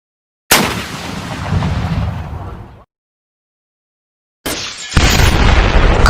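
A cartoon cannon fires at the clouds with a loud booming blast that roars for about two seconds and stops abruptly. After a silence, a second heavy burst follows and keeps rumbling.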